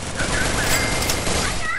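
Rapid automatic gunfire from the Free Fire video game in a dense, continuous burst, loud and close, with a voice faintly mixed in underneath.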